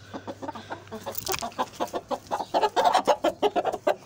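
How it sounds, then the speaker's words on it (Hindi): Java rooster and a laying Aseel hen, a rapid run of close, rhythmic clucks growing louder and denser after a brief low hum at the start. "ये मेरा मुर्गा है जावा, और ये मुर्गी है, इसने आज तीसरा अंडा दिया है।"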